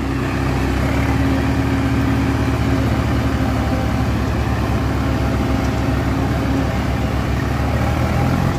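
A Swaraj tractor engine labours continuously through a wet, muddy field, a loud, steady low rumble with constant chugging that never lets up, with no voices over it.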